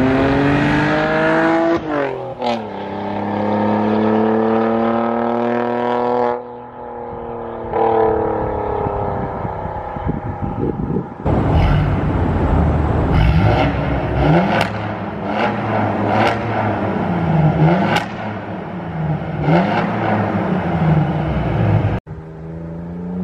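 A Saab 9-3 Turbo X V6 fitted with a 3-inch catless downpipe, mid-pipe and rear muffler delete revs repeatedly, its engine rising and falling through loud, raspy sweeps, close by and with no one talking.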